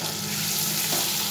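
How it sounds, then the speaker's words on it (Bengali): Potatoes frying in hot oil for a paneer curry, a steady broadband sizzle that holds at an even level throughout, close and without any talk. "আলুগুলো একটু ভেজে নেব"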